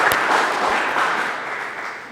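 A brief burst of dense, even applause from an audience at a charity evening event, close and steady, tapering slightly at the end.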